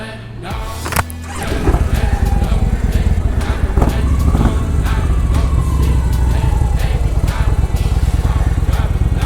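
A Victory motorcycle engine starts with a short crank, then runs loud and close with a steady, throbbing idle rumble that carries on without a break.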